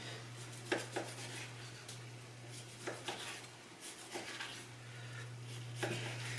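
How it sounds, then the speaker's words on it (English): A knife cuts through a cooked ribeye steak on a board, with faint irregular taps and scrapes of blade and utensils over a steady low hum in the kitchen. "take the steak, slice it up for you."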